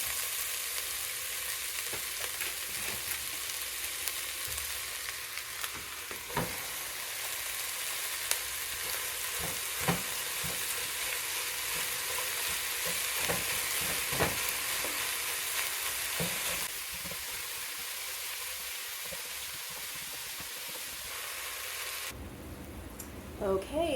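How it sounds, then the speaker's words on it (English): Meat and vegetables, including chopped squash, frying in a home cooking pan: a continuous close sizzle with occasional clinks and scrapes of stirring, steady throughout and briefly quieter near the end. "the meat and vegetables is cooking along nicely"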